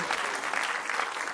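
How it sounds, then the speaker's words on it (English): Round of applause for the kids at a community performance, a brief burst of close, lively clapping. "Please, one more round of applause for our kids"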